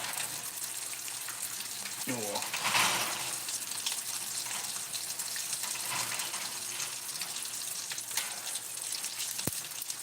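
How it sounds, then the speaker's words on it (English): Cooking oil poured straight into a hot home oven pan gives a steady watery gush and sizzle that swells briefly, with a short spoken remark partway through. "I'm just pouring oil into my oven"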